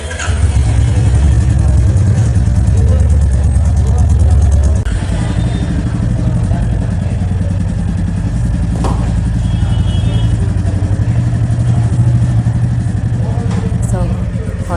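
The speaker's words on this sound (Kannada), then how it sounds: "ಹಸ್ಬೆಂಡು ಬೈಕ್ ಸ್ಟಾರ್ಟ್ ಮಾಡ್ತಾ ಇದ್ದಾರೆ." A newly bought Royal Enfield motorcycle runs close by with a deep, steady engine rumble, heavier at first then settling into an even idle with occasional clatter; a voice is heard over it.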